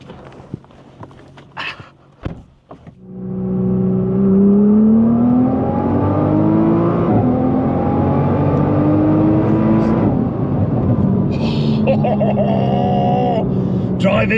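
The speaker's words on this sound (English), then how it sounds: "I absolutely love the Nissan GT-R Nismo. Let's take it for a drive." Nissan GT-R Nismo sports car in Japan, its engine rising from idle into a loud, sustained revving drone that climbs and holds in pitch, with brief knocks and door-like thumps before it starts.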